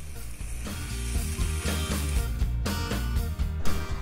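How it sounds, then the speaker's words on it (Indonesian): Shrimp shells and heads frying in a little hot oil, a steady dense sizzle with stirring clatter throughout, no voices. "setelah itu kita masukkan kulit dan kepala udang. Tumis hingga berubah warna dan harum."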